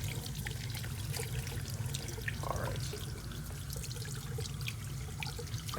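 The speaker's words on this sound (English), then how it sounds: "We want the water to trickle downwards." A faucet runs in a clinical hand-washing demonstration, water trickling steadily down rinsed forearms and hands, a soft continuous splashing stream heard close with no talking.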